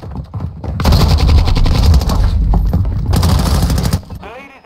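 Loud, rapid automatic gunfire bursts in the Modern Warfare 2 video game, with sustained rattling volleys, a brief pause, then another long burst, heard close and dense.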